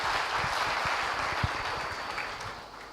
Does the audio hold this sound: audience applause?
yes